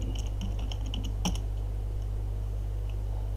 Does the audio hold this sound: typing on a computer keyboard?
yes